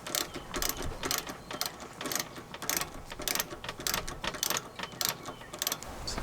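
A ratchet socket wrench tightens a half-inch through bolt on a Backwater Swomp Lite Glider mud motor kit, giving steady bursts of close, crisp clicking strokes with short pauses between them.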